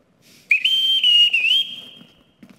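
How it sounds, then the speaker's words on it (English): A whistle blown in a household to summon someone gives one long, loud, shrill blast close by, its pitch wavering slightly before it tails off. "Everyone in this house answers to a whistle."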